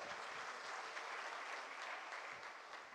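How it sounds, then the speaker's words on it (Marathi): A crowd at a political gathering in Hingana claps steadily and densely, a sustained wash of applause heard from a bit of a distance, fading slightly at the end. "त्यांचं टाळ्या वाजून एकदा कौतुक करा"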